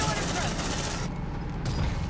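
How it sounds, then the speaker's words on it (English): A sentry gun fires nonstop in the Aliens: Dark Descent video game, a dense roar of rapid automatic gunfire that fills the whole clip at close range, with a brief thinning partway through. "Deploying sentry gun."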